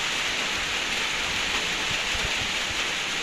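Steady, dense rain hisses without a break, a constant rushing wash of sound with no voices.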